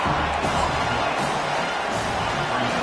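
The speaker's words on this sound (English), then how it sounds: "this crowd coming to life here, trying to help the defense get a stop" A football stadium crowd roars and cheers continuously, dense and loud, in a sustained wall of noise with no break.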